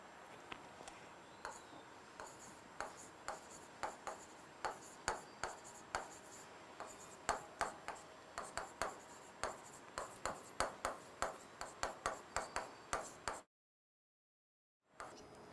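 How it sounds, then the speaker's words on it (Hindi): Chalk or marker writing on a board during a classroom lesson, a steady run of short scratchy strokes and taps at close range, with no talking, ending in a brief silence. "सो मैं लिख देता हूँ।"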